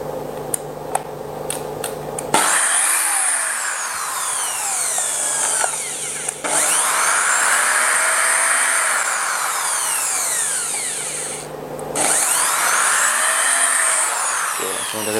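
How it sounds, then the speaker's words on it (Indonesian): Kyuho K550 13 mm electric drill boring into Dutch teak wood with a 10 mm bit at medium speed, a loud sustained whine rising and falling in three long bursts with brief pauses between, after a few clicks at the start. "Saya coba di kayu jati Belanda, dan saya akan coba ngebor seperti ini."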